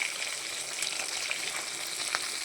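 Fish pieces fry in hot oil, giving a steady, close sizzle with small pops and spits scattered throughout; moderate level, no talking.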